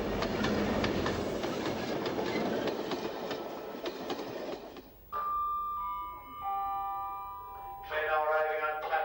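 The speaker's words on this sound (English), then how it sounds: "Train now arriving on platform number 1" A diesel multiple-unit train on the Tipperary line in Ireland rumbles and clatters nearby, then quiets as it slows; tonal chimes of a station announcement ring out over the fading rumble.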